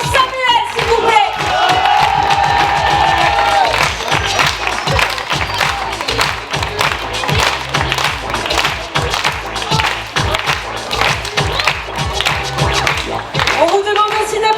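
Crowd at a closing show claps and cheers for the performers, producing sustained, loud applause with rhythmic hand claps and shouts, while an announcer talks over part of it.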